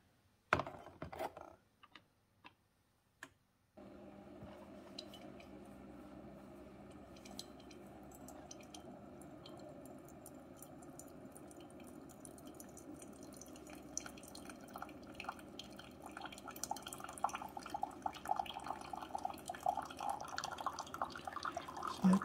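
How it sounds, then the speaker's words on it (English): A Cuisinart SS-15 single-serve coffee maker brews through a reusable K-cup into a cup, starting with a few soft clicks, then a steady quiet trickle and gurgle that builds toward the end. "It comes out at a pretty nice stream."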